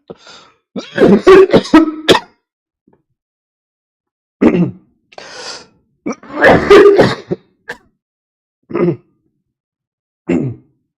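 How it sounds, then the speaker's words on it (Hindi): A teacher's repeated harsh coughs and throat clearing during a class, in close, loud bursts separated by silence, with several coughs clustered together. "थोड़ी सी खांसी हो गई है"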